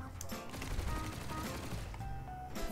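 Rapid gunfire from a recoil-heavy weapon in a multiplayer shooter video game, dense bursts of shots running continuously at steady loudness through the whole stretch.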